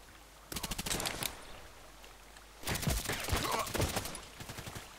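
Bursts of rapid automatic gunfire in the shooter game Contract Wars, a short volley followed by a longer, heavier string of shots, fairly close and loud against quiet background.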